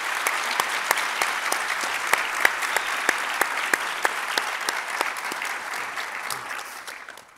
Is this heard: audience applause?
yes